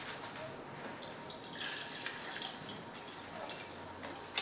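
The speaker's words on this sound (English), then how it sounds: "maglalagay na tayo ng 225 ml ng water" Water poured steadily into a drink shaker, 225 ml going in as a soft, continuous splashing trickle with light drips near the end, close and fairly quiet, no voices.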